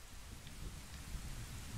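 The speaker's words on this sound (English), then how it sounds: "Oh, it started raining." Steady, fairly quiet rain in The Legend of Zelda: Ocarina of Time (N64) hisses evenly throughout, a continuous wash of falling water with a low rumbling undertone.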